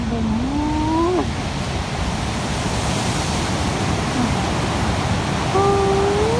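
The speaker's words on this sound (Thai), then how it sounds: "คลื่นทะเลยักษ์มาแล้วนะพี่น้อง" Big sea waves crash and roar in a broad, continuous wash of surf, heard close and loud, while a few brief rising whistle-like tones sound over the steady noise.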